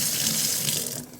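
Water running steadily from a tap, a loud, close, continuous hiss that eases slightly near the end as the flow changes.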